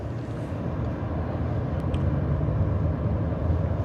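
A 2020 Acura MDX A-Spec driving along a snowy winter road, giving a continuous low rumble of engine and tire noise that stays steady and close throughout.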